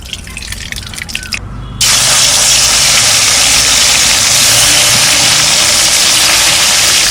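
Shol fish, rubbed with salt and turmeric, is dropped into hot mustard oil and starts to fry with a sudden loud, steady sizzle that fills the rest of the clip, close up.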